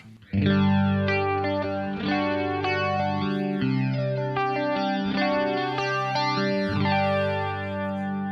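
Electric guitar played through an Electric Mistress flanger at its sweet spot setting with the filter matrix off, sustained distorted chords with a sweeping, swirling comb effect, loud and alone with no talking.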